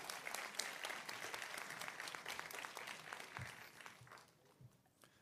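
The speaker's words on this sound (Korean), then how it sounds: "박수 부탁드리겠습니다" An audience at a gubernatorial education superintendent candidates' debate claps as a candidate is called forward, dense applause at first that thins out and fades into a few scattered claps and thumps toward the end.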